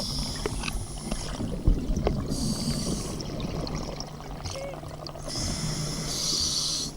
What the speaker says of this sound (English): from the noise, I feel like he's emptying the BCD, which is making him sinking pretty fast